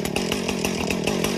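A Husqvarna 455 Rancher chainsaw runs steadily near the microphone, its engine holding a constant buzzing drone with a rapid pulsing rhythm, loud and alone without any voices.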